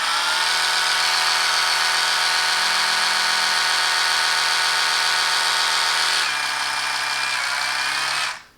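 An Oral-B Pro 3 3500 Cross Action electric toothbrush running close up: a loud, steady high-pitched buzz that shifts tone partway through, then cuts off abruptly at the end.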